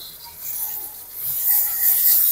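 Soaked Gobindobhog rice is rubbed by hand into a pan of spiced potatoes, giving a soft, close, grainy rasping and rubbing that grows slightly louder toward the end.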